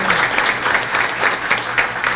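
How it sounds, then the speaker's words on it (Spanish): An audience at a live church conference breaks into brief, dense applause, loud and close, with no speech on top. "denle un aplauso al Papa Francisco"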